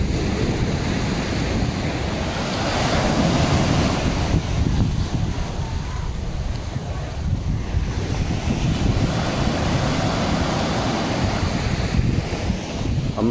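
Ocean waves at the Puerto Vallarta malecon wash in steadily, a loud continuous surf roar with wind buffeting the microphone and no voices.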